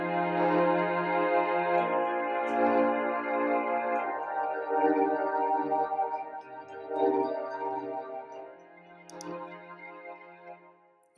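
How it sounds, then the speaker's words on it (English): A MIDI chord progression from an online sequencer plays with a bass line and vibraphone part, sustained layered chords shifting every couple of seconds over a low bass, steady and alone without speech. "here I've made a little chord progression with a bass line and vibraphone part"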